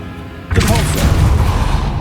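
A Depulso spell blast from Hogwarts Legacy, a sudden forceful boom arriving after a quiet moment, followed by rumbling debris and a brief wavering magical whine within the roar.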